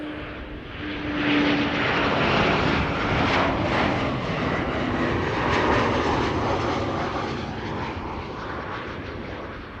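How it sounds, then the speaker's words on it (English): A KLM Embraer jet, flight 1020 from Leeds, arrives at Amsterdam Schiphol, a moderately loud engine roar that swells, eases slightly and builds again as it passes at middle distance. "First up, another KLM Embraer. This is KLM flight 1020 arriving from Leeds."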